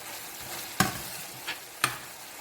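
Steady close sizzling of chicken frying in a pot for Trinidad-style stew chicken, with a few sharp scraping stirs breaking through the constant crackle.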